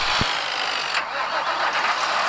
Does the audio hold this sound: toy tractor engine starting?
yes